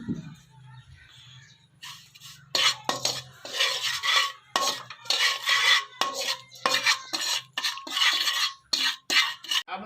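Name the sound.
prepared masala added to oil in a pan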